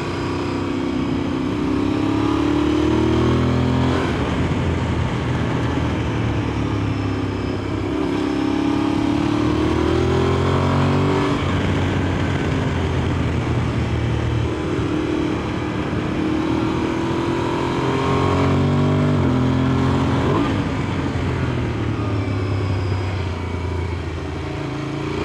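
An adventure motorcycle rides a mountain road, its engine droning loud and close in long waves of acceleration and easing off as it works through the bends, with wind rush throughout.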